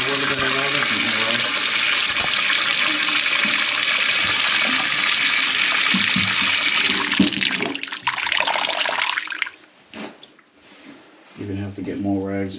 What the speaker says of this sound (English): What I want to do is add a little bit of water in here.